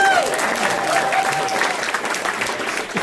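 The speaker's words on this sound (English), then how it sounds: "one more round of applause for Traven." A comedy show audience applauds with dense, sustained clapping that gradually thins toward the end, with a brief voice at the very start.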